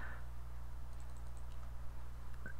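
Typing on a computer keyboard, a few light, close clicks scattered over a steady low hum, with no talking.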